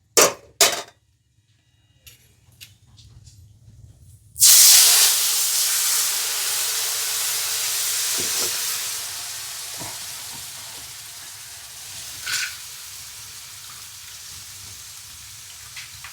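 Mustard paste water poured into a hot pan of curry sets off a loud sudden sizzle and hiss that holds steady, then slowly eases off, with a few faint clinks after a quiet start.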